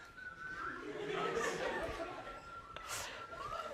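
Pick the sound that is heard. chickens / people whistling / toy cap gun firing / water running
people whistling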